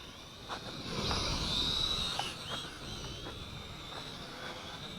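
A Hengjin HJ H15 quadcopter drone hovers and maneuvers, its small motors giving a steady high-pitched whine at moderate distance, rising slightly and then settling.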